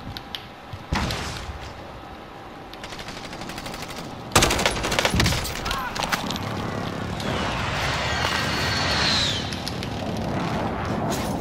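Bursts of automatic gunfire in the Call of Duty Warzone battle royale game, with dense clattering volleys and sharp shots that grow louder and more intense midway, continuing steadily to the end.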